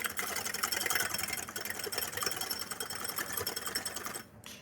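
Eggs being whisked with sugar in a bowl for a lembas recipe, a steady rapid whirring beat running close and loud, then cutting off near the end.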